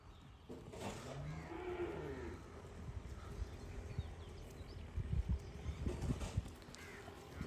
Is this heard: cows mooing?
yes